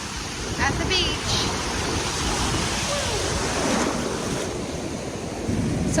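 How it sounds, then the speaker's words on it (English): Ocean waves roll at the beach as a continuous loud wash, with wind buffeting the microphone throughout. "I'm here at the beach."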